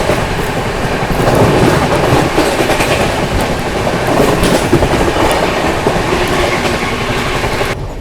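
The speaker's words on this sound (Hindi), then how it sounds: "गजब की रफ्तार में विभूति एक्सप्रेस ने स्किप मारा है भाई" The 13047 Howrah–Prayagraj Rambagh Vibhuti Express rushes through at high speed, a loud, dense rumble with rapid clickety-clack of wheels over rail joints heard from on board.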